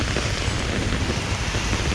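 Rain falls on a city street in Seoul, a steady dense hiss that stays even and fairly loud throughout, with no voices.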